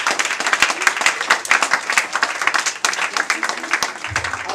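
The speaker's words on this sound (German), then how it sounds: "Und deswegen möchte ich einfach, dass wir nochmal alle klatschen" Guests at an 18th birthday party clap in a lively round, and a few claps stand out sharply from the rest. Voices and chatter run underneath, with a low hum near the end.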